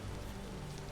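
Steady rain pattering on surfaces in the Vintage Story game world, a soft continuous hiss with faint low rumble, no voices over it.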